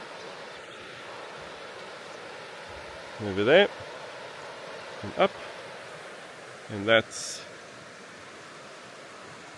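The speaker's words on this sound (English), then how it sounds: "So this is the river." Goobarragandra River flowing, a steady broad rush of water heard continuously beneath three short bursts of someone speaking.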